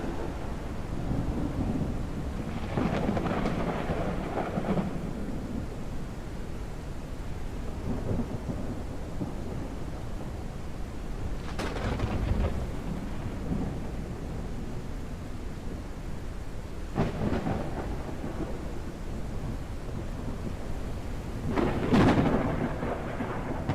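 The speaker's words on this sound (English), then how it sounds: "Another thunderstorm." Video-game thunderstorm with steady rain hissing throughout and several rolling thunder cracks breaking through at intervals, loud and enveloping.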